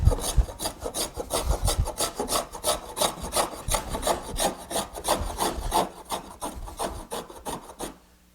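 Hand plane scrubbing across a wooden board to flatten it, worked diagonally against the grain over a slight crown; a steady series of raspy, rhythmic strokes close by, with no talk, ending in silence.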